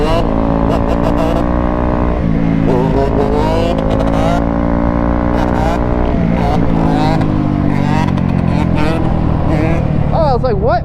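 A Yamaha YZ250 two-stroke dirt bike revs loudly and rides off, its engine climbing and falling in pitch through several gear changes, close and dominant throughout.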